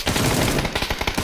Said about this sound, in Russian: Они ему стреляют тут